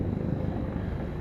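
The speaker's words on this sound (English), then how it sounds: "This chopper's flying around." A steady low rotor drone from a helicopter circling near a wildfire staging area, continuous and moderately distant, blending with wind noise.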